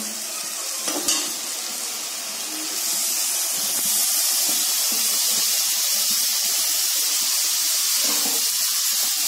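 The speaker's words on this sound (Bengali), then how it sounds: "এবার আমি এখানে আলু যে ভেজে রেখেছিলাম সেটা দিয়ে দিব, আর দিয়ে দিব মাশরুমগুলো আমি যে টুকরো করে রেখেছি।" Fried potatoes and cut mushrooms go into hot masala in a pan for mushroom masala, setting off a loud, steady sizzle that swells after a few seconds and holds, with a few clinks of a utensil.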